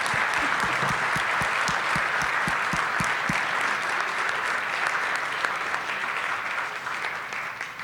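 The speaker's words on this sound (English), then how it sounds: "Thompson a big round of applause." Sustained applause from a conference audience for a panel speaker, a steady dense wash of many hands clapping, with a few nearby loud claps early on, fading slightly toward the end.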